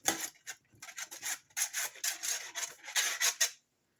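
Oil being rubbed around a pie pan for a Greek spinach and cheese phyllo pie, a series of short close scraping and rubbing strokes, quiet and irregular, then stopping.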